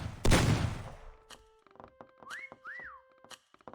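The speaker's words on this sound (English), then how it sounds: "Keith, start whistling" In the video game Meccha Chameleon, a short two-note whistle rises and falls twice and sounds faint amid sharp in-game thuds and blasts, with a loud burst at the start.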